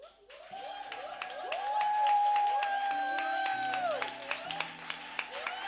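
A church congregation acclaims its preacher with warbling, rising voices over a crowd roar and sharp claps, swelling to a loud sustained peak and then easing off.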